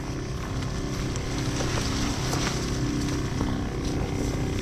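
A motorized spray pump engine on a calamansi farm gives a loud, steady drone that runs continuously with a rhythmic pulsing, close by and filling the whole stretch without pause.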